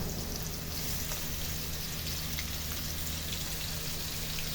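Ginger sizzling in the oil left from frying dried fish, a steady dense crackle with no break, close and even throughout.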